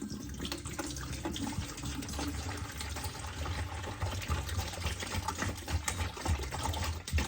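Homemade pyment, a heavy load of fermenting grape-and-honey wine, pours and splashes steadily, a continuous rushing, gurgling wash of liquid with a low rumbling undertone, close and unbroken throughout, no voices.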